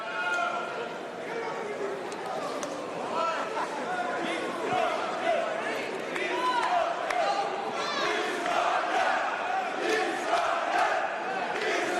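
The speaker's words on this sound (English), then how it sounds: "Uzbek chants coming from the crowd here at Techport" Uzbek fans chant loudly and rhythmically in a packed boxing arena at Techport during round four of Madrimov versus Igbokwe, and a commentator talks over the swelling crowd.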